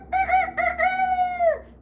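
A rooster on a grandfather's farm crows once, loud and close: a few stuttering opening notes, then one long drawn-out call that trails off at the end. No one talks over it.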